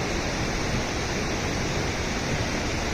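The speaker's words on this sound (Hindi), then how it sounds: "यह वह नदी ब्यास है जिसने कहर ढाला था" Beas river rushing after a flood, a steady broadband roar of flowing water filling the whole span without a break, loud and close, with no voices.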